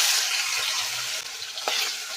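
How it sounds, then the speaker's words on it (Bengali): Katla fish pieces frying in hot oil, a steady bright sizzle filling the whole stretch with a brief spatter near the end, close and moderately loud, no talking. "মাছগুলো গরম হয়েও গেছে, দেখুন তেলে ধোয়া উঠছে। তো মাছগুলো দিয়ে দেবো।"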